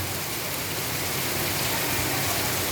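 Steady, dense rain pouring down in Don Sao Hong, Det Udom, Thailand, a constant broadband hiss with heavy drops pattering on surfaces throughout, no voices.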